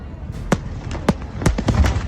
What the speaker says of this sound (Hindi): अबू धाबी में भी नए साल के स्वागत में आकर्षक आतिशबाजी की गई